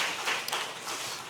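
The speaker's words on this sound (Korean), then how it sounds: "하나님께 영광의 박수 올려드리겠습니다" A church congregation claps together during a Sunday worship service, a short burst of dense, even applause filling the room without pause.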